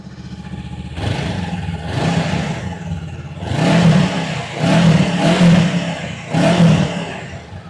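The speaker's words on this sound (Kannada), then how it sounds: "ಸೌಂಡ್ ಇರೋದೆಲ್ಲ ಎಕ್ಸಾಸ್ಟ್ ಕಡೆ ಅಷ್ಟೇ ಐತಿ. ನಾನು ಡ್ರೈವ್ ಮಾಡ್ತೀನಿ ನೋಡಿ ಹೆಂಗೆ ಬರುತ್ತೆ ಸೌಂಡ್." A Honda NX500 parallel-twin adventure tourer's exhaust rises and falls as the bike is ridden, with several distinct throttle swells, each a loud, deep burble, and short easing-off gaps between them, heard close without talk.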